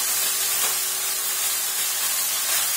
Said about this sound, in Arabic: وانا على الوضع ده بنزل بالبصلة، دي بصلة مبشورة